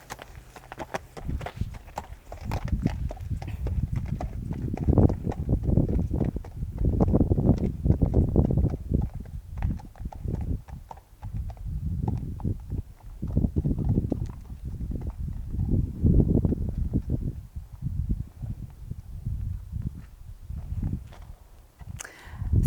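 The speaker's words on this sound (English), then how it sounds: "So we start by assessing the horse and walk first, preferably on a firm and level surface." Steady clip-clop of horse hooves walking on firm, level ground, a regular four-beat rhythm close by, with light wind in the background.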